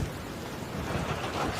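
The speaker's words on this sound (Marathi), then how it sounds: "बाहेर तुम्ही बघू शकता किती मुसळधार पाऊस पडतोय" Heavy monsoon rain pours outside a house near Kamalgad fort in the Sahyadri hills, a thick steady rush with low rumbling underneath and no voices.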